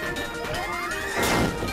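A hammer smashes into Kirby in the video game Kirby: Nightmare in Dream Land, a loud crashing game impact with a sweeping tonal effect and a bright burst near the end.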